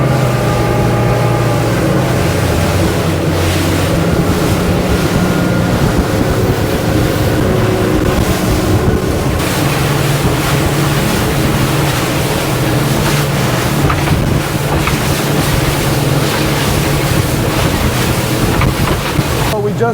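A motorboat runs at speed across open ocean in the Bahamas, its engine roaring steadily under loud rushing wind and slapping waves, all continuous and close.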